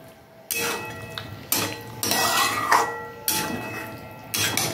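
Pre-fried mixed vegetables for a vegetarian navratan korma are stirred with spices in a cooking pan. Bursts of scraping and metallic clinks come close and fairly loud in uneven strokes, with short pauses between, and no voices.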